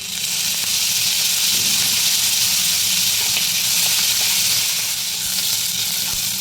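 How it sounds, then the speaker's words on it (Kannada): Rava (semolina) roasting in a pan over a flame, a steady, loud, close sizzle and hiss that holds without a break throughout. "ರವೆ ಚೆನ್ನಾಗಿ ಫ್ರೈ ಮಾಡಿ"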